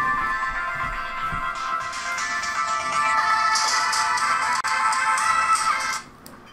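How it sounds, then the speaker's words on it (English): A phone ringtone plays loudly and alone, a steady melodic electronic tune that runs continuously before cutting off shortly before the end. "my ringtone is going to get me copyrighted"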